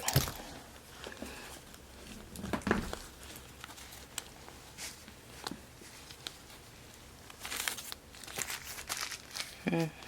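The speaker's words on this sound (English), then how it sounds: "Interesting tissue paper." Tissue paper crinkles and rustles while a Coach bag is unboxed, soft close handling in scattered bursts with a louder crumple near the start and middle, fairly quiet overall.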